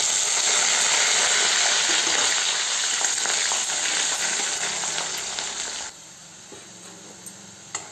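Onion, garlic and curry leaves frying in hot tempering oil with already-golden spices, a loud, dense, steady sizzle that suddenly drops to a softer crackle near the end with a few small clinks.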